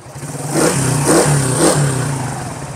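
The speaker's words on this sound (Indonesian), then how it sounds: "Mesinnya halus banget." A classic, fully original Suzuki motorcycle with a smooth-running engine revs loud and close, rising in three quick swells over a steady idle.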